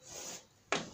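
Rubbing out writing on a board during a physics lesson: a soft, faint swishing wipe, then a brief sharper scrubbing stroke near the end, quiet and close with no talk.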